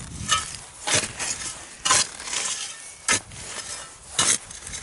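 Fireplace wood ash from the previous day is stirred into soil at close range, making rough, gritty scraping strokes that come roughly once a second over a low, steady background, with no speech.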